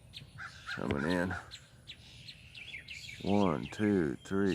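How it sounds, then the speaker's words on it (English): Crows caw loudly and close by, with a burst of harsh calls near the start and a rapid series of repeated caws toward the end, against faint outdoor bird background. "Uh-oh, now we got crows coming in."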